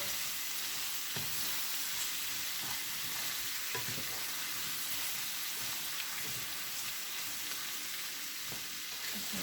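Chicken and onion stir fry sizzling steadily in a pan on a stove at medium heat, a constant bright crackle with occasional louder pops and soft stirring knocks throughout.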